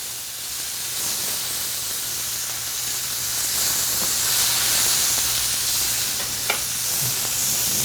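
Steak searing in a hot pan gives a steady, loud sizzle and hiss, with one small pop near the end.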